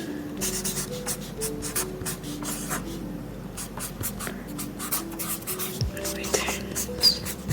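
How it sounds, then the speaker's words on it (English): Pen on paper at close range as someone handwrites an economics note, with quick scratchy strokes in bursts and short pauses, alongside soft whispered speech. "So let me write that."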